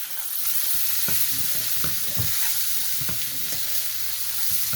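Black chickpeas roasting with masala in a pan, a steady close sizzle and hiss running throughout with repeated spatula scrapes and stirring knocks at irregular intervals, no voices.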